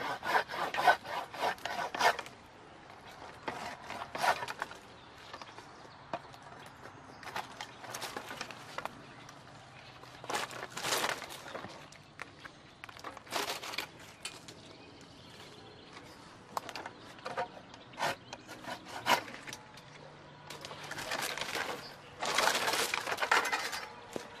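Pruning cuts on the interior deadwood of a tree make bursts of rasping sawing strokes, quiet and close, separated by pauses of near-silence.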